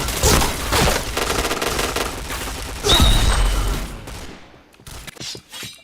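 Rapid bursts of gunfire from the online shooter game Point Blank crackle loudly in quick succession, with heavy impacts and clicks before the shooting thins out into a few scattered shots.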